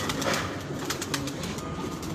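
A pigeon held in the hand coos softly and repeatedly, a low throaty burbling close by with no talk over it.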